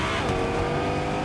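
A car engine in Fortnite revs and pulls away, a steady motor drone with rising pitch over the short stretch, fairly close and unaccompanied by voices.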